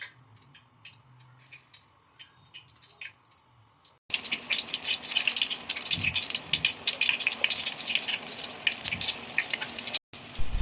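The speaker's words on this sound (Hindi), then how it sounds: "पकोड़े फ्राई करते जाएंगे।" Pakoras frying in hot oil crackle and bubble, quiet and sparse at first, then a dense, steady spitting sizzle for the remainder with a brief drop near the end.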